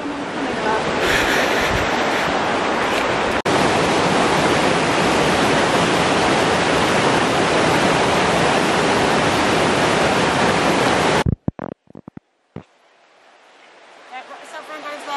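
A river flowing through woodland near Tarr Steps on Exmoor, a loud steady broadband rush that holds for about eleven seconds, then cuts out abruptly into near silence before a softer wash of water returns.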